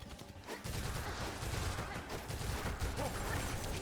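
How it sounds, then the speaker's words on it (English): Conchcutter tool hitting repeatedly in the video game Silksong, a dense continuous rattle of rapid clattering impacts and mechanical whirring lasting several seconds, fairly quiet and steady with no talking. "Let's test the Conchcutter next. So it does 7 damage per tick."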